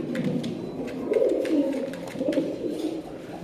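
A breeding pair of Budapest pigeons coos in low, rolling phrases that swell and fade, close by and steady for a few seconds.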